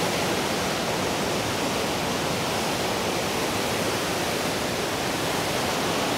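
Steady, dense rushing of falling water at Billion Falls, a continuous broadband roar with no breaks, heard from fairly close by.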